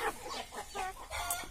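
Roosters at a farm where a giant rooster breed is sold give a run of repeated clucks in short bursts, close and moderately loud, with no talk over them.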